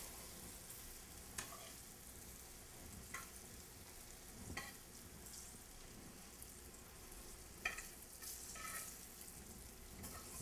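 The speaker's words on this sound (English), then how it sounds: "I'm going to pick it up and we're going to lay the chicken in the pans." Chicken pieces being laid into hot pans sizzle with a steady, broad frying hiss, broken by a few sharp clatters and spits as pieces drop in, heard close with no talk.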